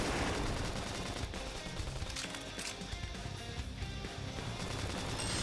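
Rapid bursts of automatic assault rifle gunfire in Xenoblade Chronicles X: Definitive Edition crackle continuously, dense and loud, with sharp shots layered over a noisy background.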